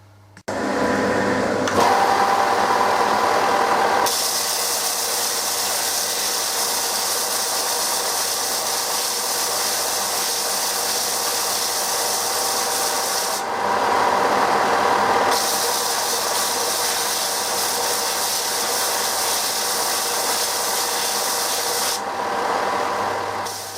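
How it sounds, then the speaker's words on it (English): A small 4-inch belt sander runs steadily on knife scales, a loud continuous abrasive whir with brief pauses and restarts as the work is repositioned, no talking over it. "little 4-inch belt sander."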